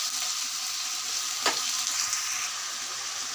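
Taro stolons fry with garlic paste in a pan, a continuous close hiss of sizzling oil with a single brief utensil scrape in the middle.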